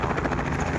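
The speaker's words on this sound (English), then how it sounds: "as a helicopter comes in over here" A helicopter flies in over Lorain County Airport, its steady rotor chop whirring at moderate loudness throughout the short moment.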